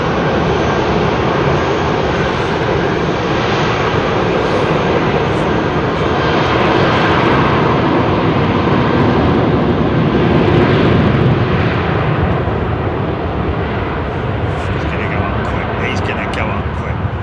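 Airliner with a composite-material airframe taking off from runway 27R at London Heathrow on a short, steep departure, loud close jet engine roar sustained throughout, broadband and steady, with people talking over it.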